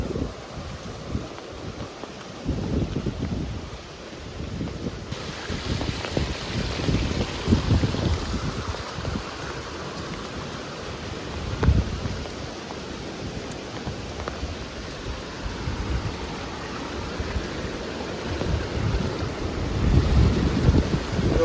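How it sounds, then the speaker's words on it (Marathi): Water rushing hard with strong pressure at a village waterfall among hills, a steady loud roar with gusty rumbling, no voices. "पक्का प्रेशरला पाणी वाहायला लागलाय"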